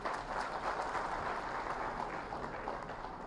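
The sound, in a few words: applause at a ceremony honouring former governor Ganga Prasad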